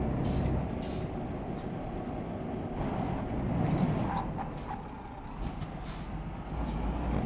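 Trucks rumble through an underground mine in a video game, a steady low engine drone with repeated sharp hisses like air brakes releasing, heard at close range.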